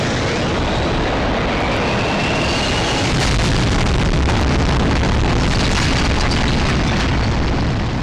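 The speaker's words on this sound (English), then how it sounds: "How low is this plane flying?" Low-flying airplane passing over a monument, a loud, continuous broadband engine roar that fills the whole span and swells slightly louder midway, heard alone without talk.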